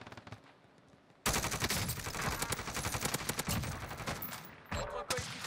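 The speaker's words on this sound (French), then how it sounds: "La tourelle qui touche." After a quiet opening, a Warzone turret opens up with loud, rapid automatic fire that rattles steadily for several seconds, then breaks off briefly before another burst.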